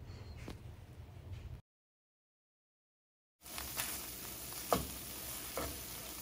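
Faint sizzling and scraping of red curry paste being stir-fried in a hot pan, broken by a short gap of silence, with occasional clinks.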